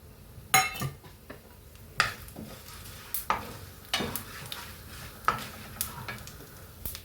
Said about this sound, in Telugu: కోకోనట్ ఆయిల్ వేసి ఇది బాగా కాగిన తర్వాత ఇవన్నీ వేసుకొని ఫ్రై చేసుకుందామండి